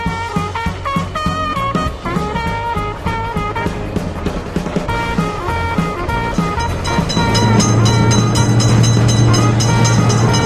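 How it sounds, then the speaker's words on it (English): A cartoon train rolls through a railroad crossing in a kids' video game, its loud steady rumble and clatter growing heavier near the end, with bright game music and effects throughout. "Attention! Train is coming!"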